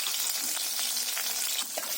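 Mixed spices fry in hot oil for a dal with jute leaves, giving a dense, loud, continuous sizzle close by with no talking.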